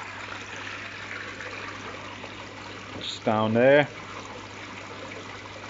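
Water trickles steadily from a Kindai shower filter on a newly built garden pond, a soft continuous wash with a voice briefly speaking over it.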